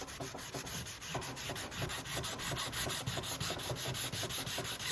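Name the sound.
sanding the old finish off a Ceconite fabric wing patch edge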